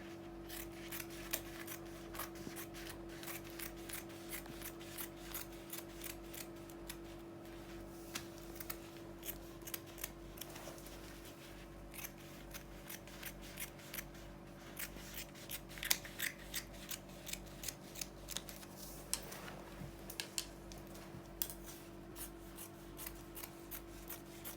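Scissor blades cut along a paper pencil skirt pattern in a long series of close, crisp snips and slides, unevenly spaced with brief pauses, over a faint constant room hum, and no talking.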